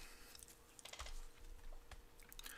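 Typing on a computer keyboard to enter a store number in a retail inventory system: quiet, irregular clicks and taps of keys, close and alone, with no talk.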